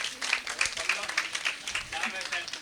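An audience at a Navaratri festival stage programme claps for a harmonium player, a steady rhythmic patter of many hands with a voice speaking over it.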